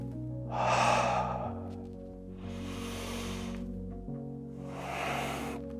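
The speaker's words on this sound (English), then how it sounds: "Big breaths through your mouth, through your nose, especially your nose though, and just relax." Slow, deep breaths drawn in and let out through mouth and nose, three long airy sighs spaced a couple of seconds apart, close and clear over a steady low hum.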